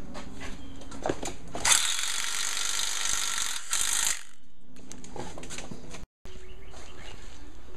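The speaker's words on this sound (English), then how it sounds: "And we're going to just put the screws in." Screws driven into a Sprinter van roof rack with a power driver, a loud ratcheting burst of about two and a half seconds followed by a shorter pass, with mechanical clicks and handling noise around them and no talk.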